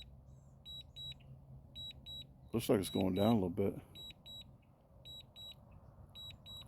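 A drone flying home over woods and a construction site gives a return-home alarm: short, high electronic beeps in quick clusters that repeat steadily through the whole clip. Someone talks briefly in the middle over the beeping.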